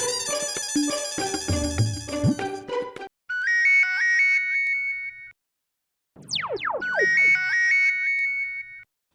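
A ringtone for an incoming phone call plays loudly in a comedy scene. A dense, musical melodic burst is followed by repeated warbling electronic tones, which stop and then start again after a short pause.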